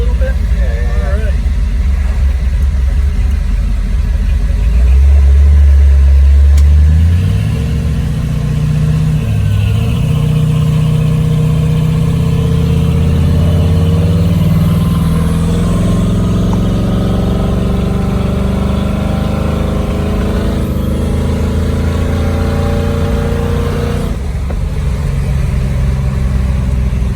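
A 1964 Chevy Impala Pro Touring with a 502 engine drives with a deep, steady exhaust rumble that swells as it accelerates and then settles into a cruising drone. Muffled voices are heard inside the car.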